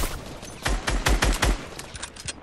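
A rapid burst of Fortnite gunfire cracks out in a quick cluster, several loud close shots followed by a few fainter scattered pops, with no talking over them.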